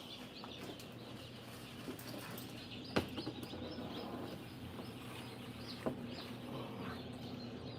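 Inside a chicken house, chickens and chicks cluck and peep softly in a steady, busy murmur, with a couple of sharper clucks rising above a constant hum of ventilation.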